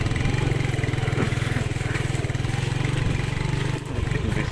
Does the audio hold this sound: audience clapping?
no